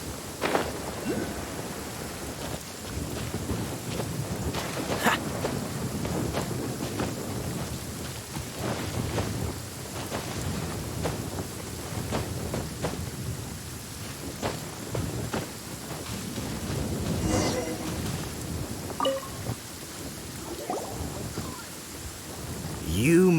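Steady rain and occasional rolling thunder from a storm in the video game Genshin Impact fill the scene with constant hiss and low rumbles, as voices speak over the weather.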